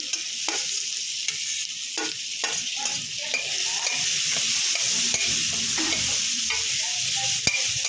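Tomato and spicy ivy gourd fry and get stirred in a pan with chilli powder, sambar powder and turmeric, giving a steady close sizzle for the whole stretch, broken by frequent sharp scrapes and taps of the spoon.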